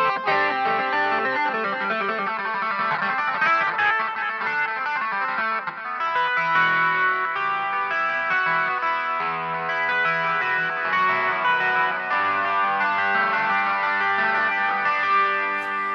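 A Hohner Clavinet D6 is played through distortion and chorus effects for a gritty, guitar-like tone. It plays a continuous busy run of bright, buzzing notes, loud and close, with no talk.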